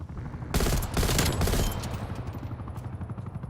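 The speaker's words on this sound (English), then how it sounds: "Wow, that helicopter's got a lot of health." In Call of Duty: Warzone, an attack helicopter takes sustained gunfire. A dense burst of shots comes first, then the continuous fire tapers into a lower rumble, with no clear talk over it.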